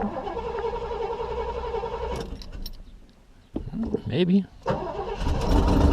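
Cold start of a Cadillac Eldorado engine with a Quadrajet carburetor after sitting a day: a brief starter crank followed by the engine catching and rising into a loud roar, with a short spoken word in between.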